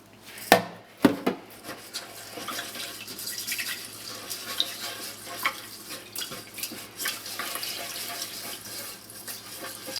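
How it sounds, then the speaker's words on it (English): Hands massage sushi rice in a bowl of water to wash off the starch, giving soft wet swishing and stirring, with a couple of sharper knocks near the start and then a steady gentle churn. "then massaging it to get all the starch off of the rice"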